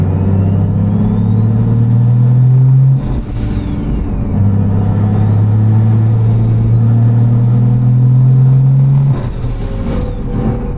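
Modified BMW 135 with M3 subframe and brakes driving and accelerating, a loud close engine drone rising in pitch through gears, with two brief shift breaks.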